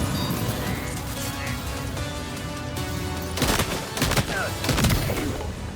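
Assault rifle fire in the video game Death Stranding 2, a continuous dense backdrop of rapid shots with sharper bursts standing out in the last couple of seconds, loud and close, with no talking.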